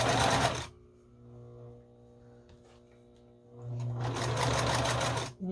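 A sewing machine stitching a scrappy string quilt runs in a loud whirring burst, pauses with quiet hum and faint clicks, then runs again steadily, close by and without talk.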